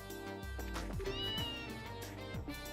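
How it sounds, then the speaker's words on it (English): A cat in the video game Trails in the Sky meows repeatedly, with several short, clear meows set over soft game music. "Cat go meow."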